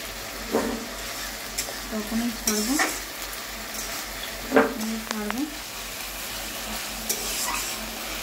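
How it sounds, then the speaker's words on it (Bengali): Egg mixture frying in hot oil, stirred with a spatula, makes a steady sizzle with repeated scraping and clinking strokes against the pan, close and fairly loud throughout. "নেড়ে নেড়ে নেড়ে নেড়ে।"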